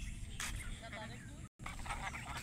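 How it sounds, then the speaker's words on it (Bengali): A flock of domestic ducks in a flooded village quacks quietly in the background, a low busy chatter of calls with a brief dropout midway. "দেখুন কি সুন্দর সুন্দর হাঁস।"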